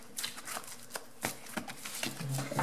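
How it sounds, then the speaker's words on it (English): A deck of oracle cards is shuffled by hand at close range, quiet crisp riffling and slapping bursts recurring irregularly, several short flurries over a couple of seconds with no talking. "let's get my shuffling together"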